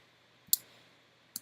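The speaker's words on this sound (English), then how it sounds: "clicking Command, holding down the Command or Control if you're on Windows, and the plus key by the delete button on your keyboard" Computer keyboard keys are pressed in a zoom shortcut in Photoshop, giving two crisp, quiet clicks about a second apart over a near-silent background.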